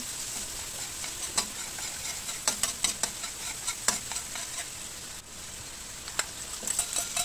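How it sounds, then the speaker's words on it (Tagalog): Shredded chicken breast sautéed in butter with garlic for Filipino chicken macaroni sopas, making a constant sizzle broken by irregular stirring scrapes and clicks of a utensil against the pan, close up, with no one speaking. "Igisa natin sa butter, bawang,"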